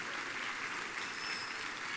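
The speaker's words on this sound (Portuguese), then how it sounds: "obrigado ao coral, mais uma salva de palmas aí para eles" Steady applause from a church congregation for a choir fills the space, even and continuous, heard from a little distance without any voices rising above it.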